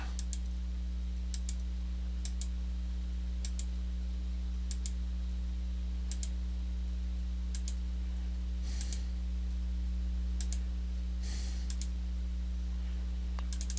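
A computer mouse clicked again and again at close range, sharp, dry single and double clicks spaced irregularly over a steady electrical hum, with no voices.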